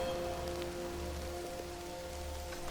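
Steady rainfall patters across the ground in the wizard-school management game Mind Over Magic, a continuous even hiss with scattered drip accents over a low ambient game hum, no voices.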